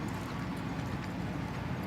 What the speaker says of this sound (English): And into the canter, an absolutely seamless transition.